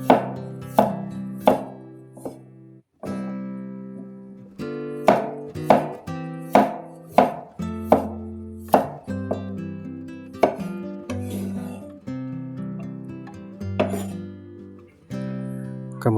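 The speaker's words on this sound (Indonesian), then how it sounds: "kita iris juga 2 siung bawang putih" Garlic cloves sliced with a knife on a cutting board, a run of crisp close chops in uneven bursts, each ringing briefly, with a short pause partway and no speech.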